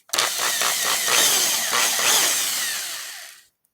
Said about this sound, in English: take this here and run the drill backwards